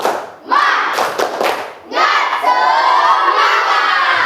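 A school class doing a tepuk semangat spirit chant, children shouting together in loud bursts with claps, then a long sustained group shout at close range.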